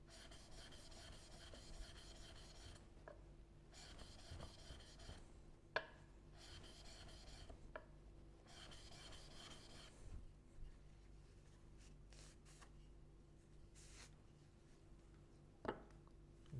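A blade bevel is rubbed in repeated strokes across a 1000 grit sharpening stone, producing rhythmic rasping scrapes in bursts with short pauses, close and quiet with no talk.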